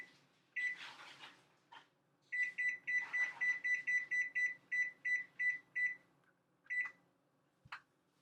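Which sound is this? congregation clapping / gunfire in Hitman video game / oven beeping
oven beeping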